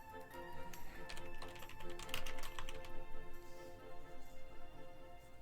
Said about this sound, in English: there's a lot of typing for this